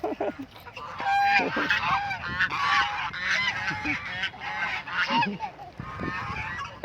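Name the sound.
flock of ducks quacking by a river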